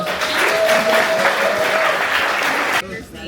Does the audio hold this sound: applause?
yes